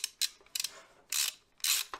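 Ratchet spinning as engine mount bolts are nipped up on a 1971 Range Rover, several short, crisp clicking bursts in quick succession, close and fairly quiet.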